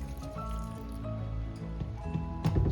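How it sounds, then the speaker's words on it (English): Water splashes and trickles into a pan of sautéed cabbage, a wet, bubbling pour with a soft sizzle beneath it and a louder splash toward the end. "we're gonna put some water here now"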